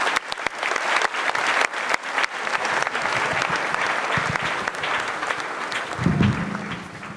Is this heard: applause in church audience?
yes